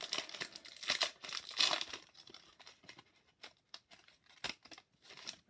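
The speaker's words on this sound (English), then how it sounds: "let's open this pack, 6-7 Series 1" A Series 1 hockey trading card pack is torn open up close, giving loud crinkling, ripping foil-wrapper bursts followed by quieter intermittent rustles and crackles, with no talking.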